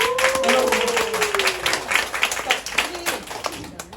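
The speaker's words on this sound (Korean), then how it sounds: "박수" Applause from a seminar or talk audience, steady clapping that fades gradually over a few seconds, with speech and tonal voice sounds laid over it.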